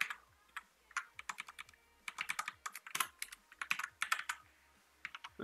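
Rapid computer keyboard typing while programming Pong in Pygame, irregular clusters of crisp key clicks with short pauses, close and fairly quiet.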